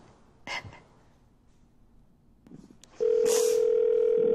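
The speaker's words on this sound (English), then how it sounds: "At the tone, please record your message." A single steady voicemail beep tone starts abruptly and holds loud and unbroken, following a couple of faint rustles and clicks.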